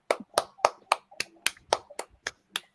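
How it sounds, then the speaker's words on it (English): A few people clap in sharp, evenly spaced bursts, about ten distinct claps over a couple of seconds, close and fairly quiet, with no talking over them. "Everyone's applauding."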